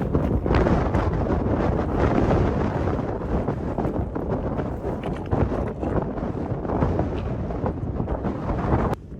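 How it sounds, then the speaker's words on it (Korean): Strong wind roaring and buffeting against the microphone on a mountain hike to Medicine Bow Peak, Wyoming, gusting continuously with heavy low rumble and no voices. "오늘 바람이 장난 아니래요 와, 바람 소리 봐"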